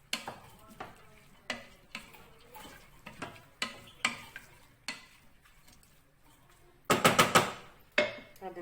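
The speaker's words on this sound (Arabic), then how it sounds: "فوالا خليتهم يتقلاو شي شويه" Shrimp sizzle and get stirred in a pan for a simple Chinese-style soup, with a run of soft scraping and clinking strokes and one louder burst of frying near the end.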